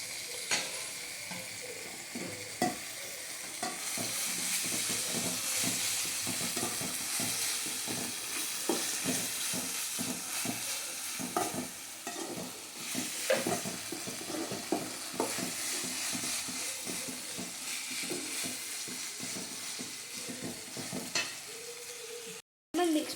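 Food frying and being stirred in a pan while cooking a spiced dish, steady loud sizzling with repeated scraping stir strokes throughout, ending in a brief cut.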